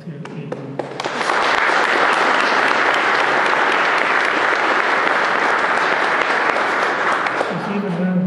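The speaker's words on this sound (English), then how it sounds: "So let's give another round of applause to Adrian" A reception crowd at a collection dedication applauds a staff member, the clapping rising after a few scattered claps into a full, loud, steady roar of hands that ends abruptly.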